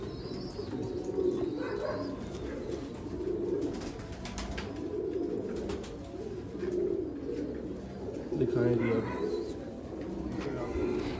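Sialkoti pigeons coo in low, repeated throaty rolls through steady background noise, with a voice talking briefly over the birds.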